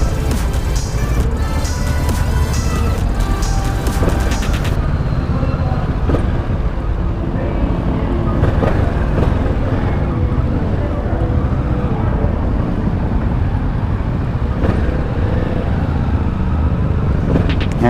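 Kawasaki Z650 RS motorcycle ridden through city streets in Naga City, a continuous engine drone with wind rush and traffic noise, loud and close throughout.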